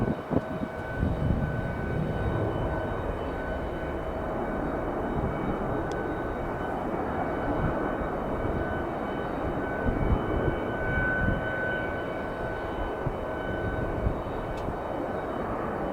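Aircraft engines roar steadily at Detroit Metro Airport, a continuous loud jet drone with a sustained tonal whine running unbroken throughout, heard from a plane-spotting vantage point.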